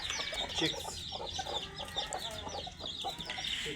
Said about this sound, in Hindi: चलें तो फिर हम खोलते हैं अपनी मुर्गी को ताकि ये अपने बच्चों को दाना वगैरह खिलाए।